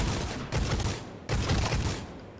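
Weapon gunfire in the video game Necromunda: Hired Gun, two loud bursts of rapid shots, each lasting most of a second, with no talking.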